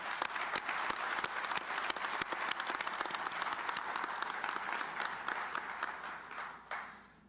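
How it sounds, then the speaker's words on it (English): Applause from a crowd for police and fire first responders at a Veteran's Day ceremony, steady clapping that holds for several seconds before tapering off. "Let's give them a round of applause."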